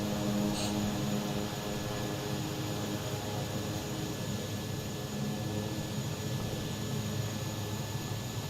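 A small piston aircraft engine idles steadily during a back taxi to runway 17 in Microsoft Flight Simulator 2020, a constant droning hum with no talk over it.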